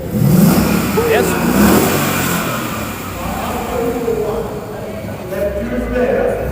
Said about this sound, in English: It is a 2019 Ford Mustang 5-liter GT automatic.